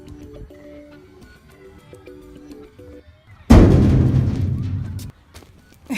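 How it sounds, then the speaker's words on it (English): A pumpkin tossed into the air crashes into a dumpster being filled while clearing out a rental unit: a sudden loud boom and rumbling clatter that fades over about a second and a half, after a quiet stretch with soft tonal background sounds. "throw a pumpkin up in the air and have it land"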